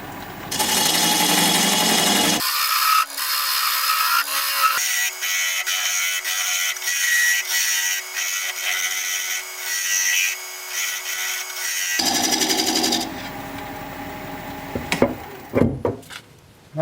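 Wood lathe turning a tenon on a bowl, with long stretches of a tool scraping and cutting against spinning wood over a steady whir, ending in some lighter knocks and handling noise.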